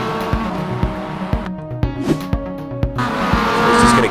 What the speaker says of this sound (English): He's just going to get loose, very sideways. The back end keeps going and he can't control it. And then he'll kiss the barrier like that, bang.